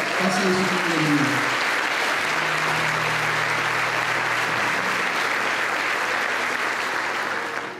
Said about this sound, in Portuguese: Você pode aplaudir Jesus? Faça isso comigo.